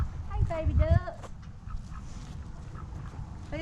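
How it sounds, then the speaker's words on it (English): Young Muscovy ducks, hatched the previous year, give a brief burst of fowl calls on a farm, loud at first and then fading into outdoor ambience with faint murmurs. "These are our baby ducks from last year."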